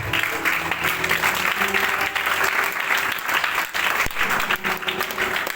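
A church congregation bursts into sustained applause, a dense wash of clapping that stays loud and steady for several seconds with a faint voice beneath.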